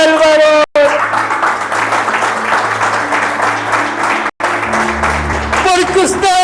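Church congregation applauding in a big sustained burst, the clapping continuing over music and a voice speaking through it.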